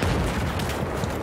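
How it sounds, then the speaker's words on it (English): Mortar explosions in an 8x8 multiplayer video game match come through as a dense, continuous low boom and rumble with overlapping blasts, loud and close throughout. "Oh, and mortar."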